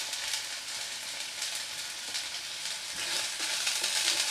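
Bottle gourd leaves sautéed in oil with salt and turmeric give a continuous sizzle, with faint stirring scrapes that grow a little louder toward the end.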